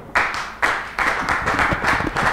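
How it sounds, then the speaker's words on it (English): Church congregation clapping in praise, several loud bursts of many hands striking together, starting in distinct surges and settling into a continuous close clatter. "Give the Lord a clap offering."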